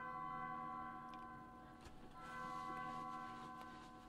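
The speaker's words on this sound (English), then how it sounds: "I don't like the ominous bells" Ominous bells ring in the video game Undertale, a low, sustained, resonant toll with several soft struck accents layered over a droning chord, steady and fairly quiet.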